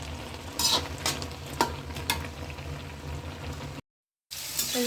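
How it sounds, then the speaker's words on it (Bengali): Onions frying in oil in a karahi for a kochu shak dish, a steady crackling sizzle with scraping stir strokes and a low hum beneath, cutting briefly to silence near the end. "পেঁয়াজ ভাজি করছি"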